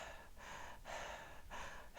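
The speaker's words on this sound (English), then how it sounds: "some people will just do what I call chest breathing, which is only filling up half the lungs" Three shallow chest breaths, each a quick airy inhale and exhale in a steady rhythm, close and fairly loud with short pauses between, demonstrating breathing that fills only the upper half of the lungs.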